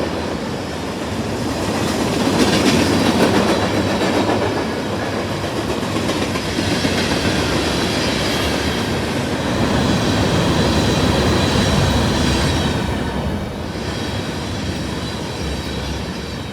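Freight train with Amtrak hopper cars rolling past, a loud continuous roar with rhythmic clickety-clack of wheels over rail joints and faint squeal, close by and steady throughout.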